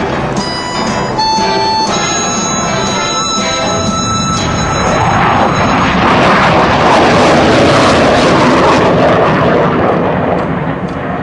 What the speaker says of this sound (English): the aircraft has been ignited by the full afterburner.